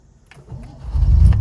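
A cold 1972 Citroen SM with its Maserati engine cranks over in a few faint clicks, then catches and rises into a loud, close rumble of idling.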